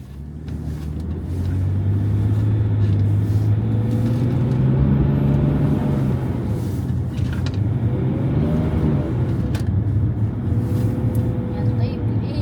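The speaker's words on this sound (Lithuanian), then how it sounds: "Važiuosim per apsnigtą lauko dalį, pasitrankyti po sniegą." A Range Rover on mud tyres drives across a snowy field, its engine giving a low, steady droning rumble close by that swells slightly and holds, with muffled voices from inside the cabin.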